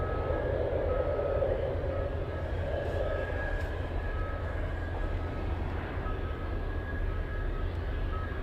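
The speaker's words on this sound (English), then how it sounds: "We'll try and zoom in to the final approach path for the DC-10 as it lands at Elmendorf." A DC-10 jet on final approach to land at Elmendorf near Anchorage, a steady broad engine roar with a faint whine that holds level and constant throughout, heard from a distance in windy conditions.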